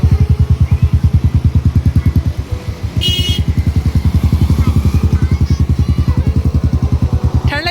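A motorcycle engine runs close by with a fast, steady thumping idle that pulses evenly throughout, with a brief rattle partway through and faint voices underneath.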